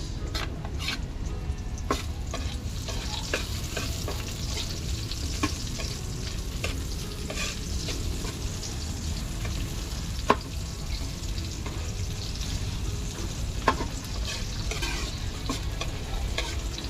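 Onions frying in a pan, a continuous close sizzle broken by scraping stirs and occasional clinks of the utensil against the pan, with no voices.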